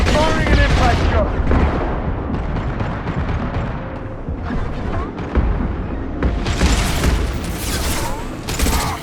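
Impact shot weapon fire in Mass Effect 2, loud dense bursts of gunfire and booms in a continuous combat din, with a voice partly under the noise.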